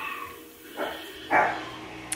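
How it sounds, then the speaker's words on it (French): A dog barks at the door, two short near barks about half a second apart, followed by a faint high yip at the end. "Puis là, vu que Lola jappe, Maëlia pense aussi qu'il y a quelqu'un à la"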